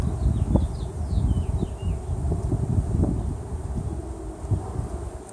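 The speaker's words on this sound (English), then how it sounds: "I believe these bees are carnelians." Steady insect buzzing from many Carniolan honey bees at a hive, close by, with wind noise and rustling mixed in and no talking.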